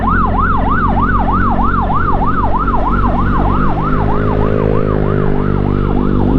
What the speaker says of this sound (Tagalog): Tabi tayo, nadaanan natin ang ambulansya.